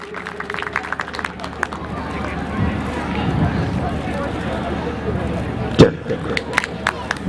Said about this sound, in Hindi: एक बार जोरदार ताली भाई साहब के लिए।